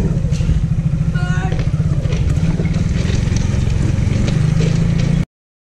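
A motorcycle engine idles and putters close by with scraping and clatter while crossing a rough railway track, a continuous rhythmic low thrum throughout.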